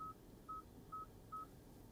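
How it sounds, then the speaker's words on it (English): Four short, identical electronic beeps from a Hyundai IONIQ 6 media screen repeat at an even pace over a faint hum, quiet and clean. "the beeping that we get"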